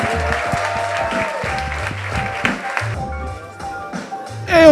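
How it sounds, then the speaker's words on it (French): An audience at a French dating show applauds a contestant named Maxime, a steady mass of clapping with a dense pattering texture that thins out toward the end, close and fairly loud. "On fait un tonnerre d'applaudissements pour Maxime s'il vous plaît"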